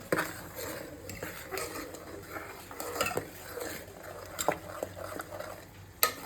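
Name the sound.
rice kheer (milk pudding) boiling in a pot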